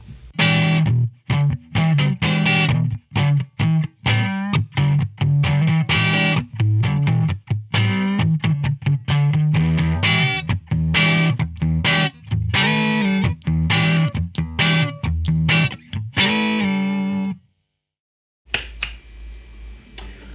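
Distorted electric guitar fitted with a Varitone kit, played through the neck pickup: a loud, continuous run of picked notes and chords, ending in a brief pause and a short burst of noise.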